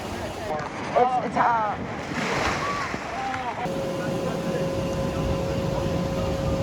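Water rushes and splashes around a river rapids raft ride at Six Flags Magic Mountain, with wind buffeting the microphone and brief voices and squeals at the start before a steadier roar with a faint tone.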